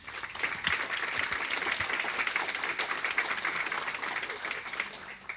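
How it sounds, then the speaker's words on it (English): An audience applauds during a keynote at a major events summit in Los Angeles, a steady wash of many hands clapping at moderate level from start to finish, tapering slightly at the end. "I think that deserves a round of applause"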